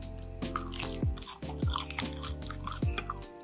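Crisp, fresh lettuce salad and crispy lechon are bitten and chewed up close, a series of sharp crunches every half second or so with softer mastication between, no talking.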